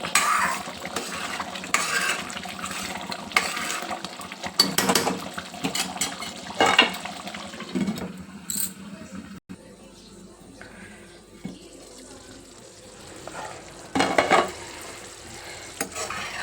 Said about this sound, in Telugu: మధ్య మధ్యలో కలుపుతూ ఉడికించుకోవాలి ఈ గ్రేవీని